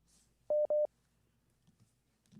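Two short telephone keypad dialing tones sound in quick succession during a live call-in broadcast, clear and close against near silence, with faint background noise afterward.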